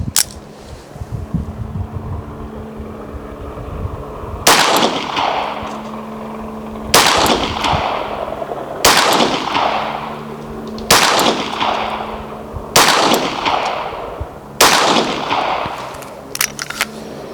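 Six sharp, loud shots from a Ruger Mark IV .22 LR pistol fired at a 10-metre target, evenly spaced about two seconds apart, each a crisp crack with a brief ringing tail over low background hum.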